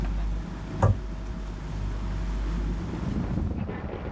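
Wind at sea on a sailboat with the main hoisted and the screecher unfurled: a steady, loud rush buffeting the microphone, with a brief thump near the start and no voices.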